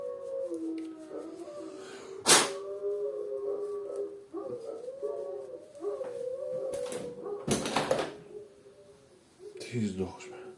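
Indoor dogs howl and whimper with long, wavering, close tones that rise and fall continuously, broken by a few sharp clattering bursts.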